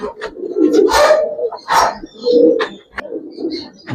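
Giribaz pigeons coo in soft, throaty bursts, several in a row with short pauses, close by, with a little rustling and faint voices mixed in.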